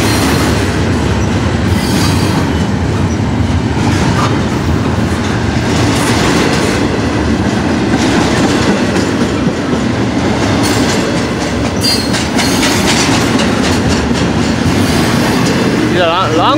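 An FEC freight train hauled by SD40 locomotives rolls past close by, a loud continuous rumble of wagons with rhythmic clickety-clack from the wheels.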